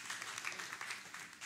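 Church congregation applauding during a service, a quiet, steady wash of many hands clapping at a distance, faint and continuous throughout.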